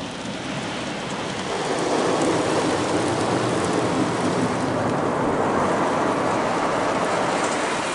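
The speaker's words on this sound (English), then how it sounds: "Some sort of rinse this looks like." A dense, steady hiss of water spraying at high pressure fills the space as an Istobal M'Nex 22 automatic car wash at a Mobil station in Paraparaumu runs its rinse over a car, loud and continuous with no talking.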